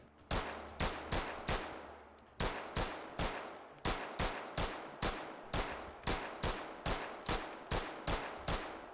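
Rapid, sharp gunshots in the VR shooter game H3VR ring out in a steady rhythm, roughly two per second, loud and close, with a short pause before the firing resumes; no one speaks.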